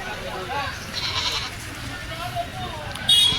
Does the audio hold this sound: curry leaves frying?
no